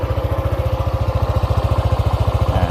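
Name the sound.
scooter engine idling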